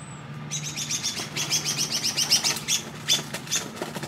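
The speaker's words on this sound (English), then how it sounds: "Ooh, sounds like some birds are fighting." Birds chirp rapidly and squabble close by, with agitated tweets and fluttering wings in quick bursts.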